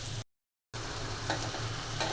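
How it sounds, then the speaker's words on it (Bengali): Spiny gourd (kakrol) fries in a pan in a home kitchen, giving a steady close sizzle with faint stirring, broken by a short silent gap. "আর এই যে কাঁকরোল ভাজা হচ্ছে"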